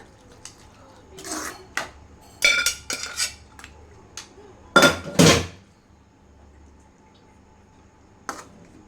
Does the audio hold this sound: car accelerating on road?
no